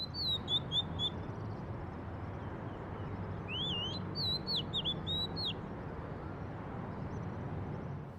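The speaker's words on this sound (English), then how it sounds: "considering even the birds sing" Outdoors over a constant low rumble of traffic or wind, a bird sings a few short, high whistled phrases, one near the start and a busier burst midway, moderately distant.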